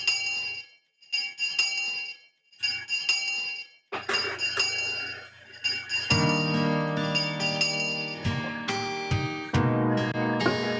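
A bright, ringing chime melody of a school bell in the visual novel Higurashi When They Cry, starting as spaced tones and building into sustained, overlapping bell notes with soft music beneath.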